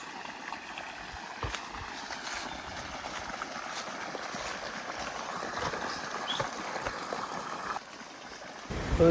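Steady irrigation water rushing and trickling close by through a field channel in an onion field, a continuous broadband wash that holds even throughout before dropping briefly near the end.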